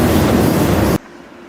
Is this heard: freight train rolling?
yes